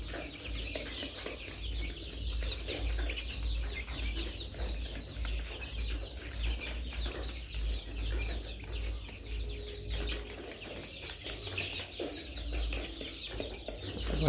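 Layer hens cluck continuously on a poultry farm, a dense chorus of many birds over a constant low hum, with no pauses.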